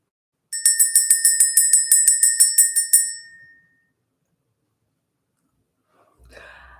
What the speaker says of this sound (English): Let's ring this bell this morning.